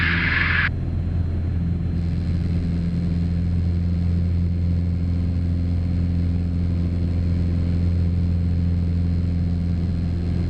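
A light aircraft's engine drones during a flying lesson, a loud, steady, even hum that holds throughout, alone with no voices.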